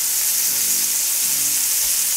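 Pork belly pieces sizzling in a hot pan, a loud, dense, steady frying hiss with faint low stirring bumps underneath.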